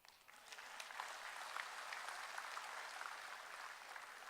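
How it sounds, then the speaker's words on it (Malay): Crowd clapping at a Malaysian political party meeting, a dense, even wash of applause that swells in and holds steady, heard from a distance at fairly low volume. "Itu boleh tepuk tangan."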